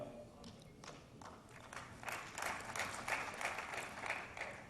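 An audience at a Make in India conference claps after a speaker's remark, the applause faint and distant at first, then swelling into a steady, dense patter of hands.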